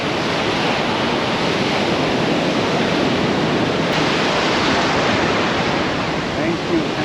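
Ocean waves crash and roll loudly and continuously at Puri Golden Beach, a broad close wash of surf filling the whole stretch.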